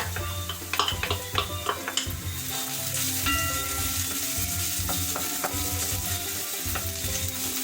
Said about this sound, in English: I'm now going to add my garlic to the mix. So in goes the garlic.